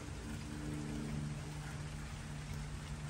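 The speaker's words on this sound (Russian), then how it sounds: "А во Флориде дождик пошел, тропический дождь, солнце и дождь" Warm tropical rain in Florida drums on a roof in a steady, dense patter, close and even throughout, with no voices over it.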